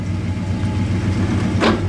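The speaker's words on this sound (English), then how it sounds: "Just for grins, throw it in reverse, please." A 1961 DeSoto engine idles steadily up close with a low, even rumble, followed near the end by a brief clunk and surge as it is shifted into reverse.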